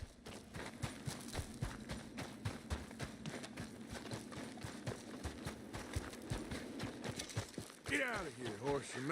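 Horse hooves clip-clop in a steady rhythm through most of the passage in the Red Dead Redemption 2 video game, moderately loud and close, with a brief voice near the end.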